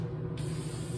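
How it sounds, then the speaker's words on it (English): Mod Podge gloss sealant sprayed from an aerosol can onto a carved relief block, heard as a short, close, steady hiss with no talking. "Here I just have this kind of Mod Podge gloss that I'm going to spray on"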